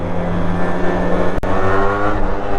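A Yamaha RX motorcycle engine roars through a loud exhaust, close up, in a steady, heavy, harmonic-rich drone. There is a short dip around the middle, then it carries on just as loud.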